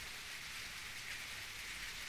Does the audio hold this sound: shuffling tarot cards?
no